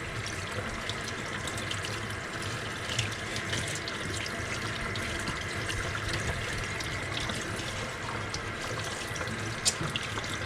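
Tap water running into a sink while a tie-dye T-shirt is rinsed, a steady close splashing stream with small irregular spatters, continuous and moderately loud with no voices.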